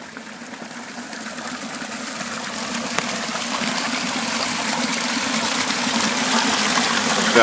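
Water from Eshton Spring in Yorkshire flows steadily and loudly, a continuous broadband gush and splash that stays close and even throughout with no talking.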